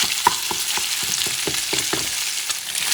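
Codfish being broken apart in hot frying oil for a cod Spanish omelette, a steady loud sizzle with rhythmic utensil stirs and scrapes, close and without talk.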